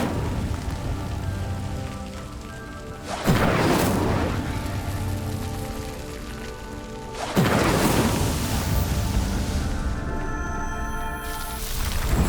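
Two sharp fiery whooshing bursts from the Incendio fire spell in Hogwarts Legacy, a few seconds apart, each flaring loudly and then fading over a steady bed of game music and ambience.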